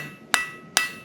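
Two crisp, ringing hammer taps on hot metal during blacksmith forging, evenly spaced less than half a second apart, each with a short metallic ring.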